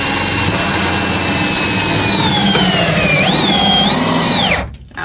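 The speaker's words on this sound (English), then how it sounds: "Drill in our hole." A power drill bores a hole through a campervan wall, a loud, close, continuous whine that dips and climbs in pitch as the bit works, then cuts off abruptly near the end.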